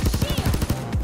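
Rapid bursts of heavy gunfire from a cannon weapon in the game Payday 2, a fast string of punchy shots about ten to a second, close and loud, with no talk over them.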